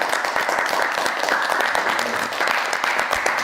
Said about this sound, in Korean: 우리 박수로 영광을 드리겠습니다